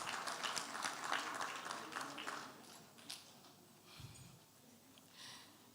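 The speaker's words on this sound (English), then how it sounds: "Please give yourselves a huge round of applause." Applause from a crowd, loud at first and then fading into scattered claps and room noise.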